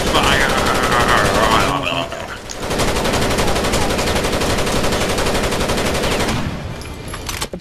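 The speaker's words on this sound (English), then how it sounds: "Suppressing fire!" Sustained automatic gunfire from Rainbow Six Vegas 2 roars almost continuously, dropping briefly and then resuming loud and close before fading near the end, with players talking over it.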